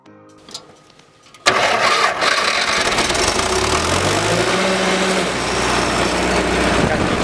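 After a brief crank from a newly installed geared electric starter replacing the PD-10 pony engine, a tractor engine catches and roars to life, then settles into a loud, steady running rumble as revs wind up and level off.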